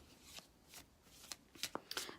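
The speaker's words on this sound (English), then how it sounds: "I'm going to do another little shuffle here" A tarot card deck being shuffled by hand, with soft riffling bursts and sharper card slaps building toward the end, close and fairly quiet.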